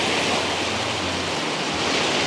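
Wild ocean surf on the Patagonian coast of Chile, a loud, continuous roar of breaking waves with a low rumble, no voices over it.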